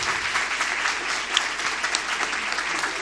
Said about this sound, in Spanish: y que aplaudan.